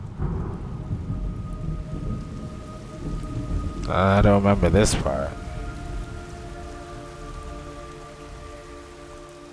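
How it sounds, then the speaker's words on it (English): Steady rain hisses throughout with a low rumble of thunder in the video game Metal Gear Solid Delta, while a voice speaks briefly partway through. "It's raining."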